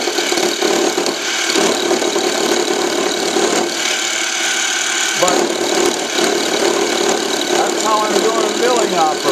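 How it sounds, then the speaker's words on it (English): A small, not very rigid milling machine cuts a slot into a .22lr shell holder, giving a loud, steady grinding and whirring with a rasping edge that runs without a break from start to finish. "Milling operation."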